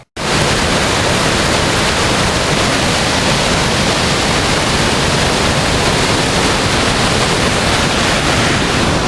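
Floodwater rushes through Fern Ridge Dam during flooding in West Lane County, Oregon, making a loud, unbroken roar that fills the whole stretch with dense, steady noise.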